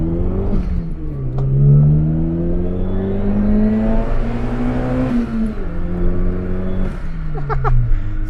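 Small Daihatsu Mira TR-XX Avanzato Turbo kei car with a swapped engine, heard from inside as it accelerates: a loud, strained rising engine whine climbing through the gears with brief dips at shifts, steady and close.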